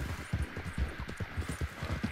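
Steady clip-clop of horse hooves at a trotting rhythm in the video game Red Dead Online, moderately loud and close, with a low hum underneath.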